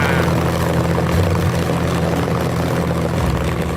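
An engine revved to about 2,500 rpm with a throttle restrictor fitted gives a loud, steady drone with a deep low hum that runs the whole time, like a propeller aircraft, and no one talks over it.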